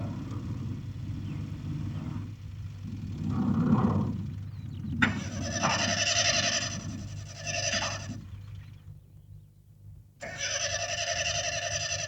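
A car engine with a weak battery fails to start in a film scene: a low rumble gives way to two long, strained whining cranks that never catch, with a short silence between them.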